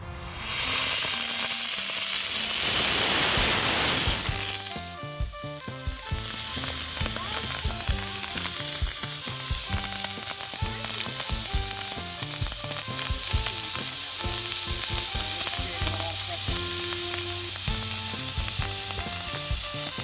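A homemade candy rocket motor fitted with a brass pipe nozzle burns on a test stand, giving a loud, sustained roaring hiss that begins abruptly, then continues with a steadier sizzling rush layered over tonal sounds.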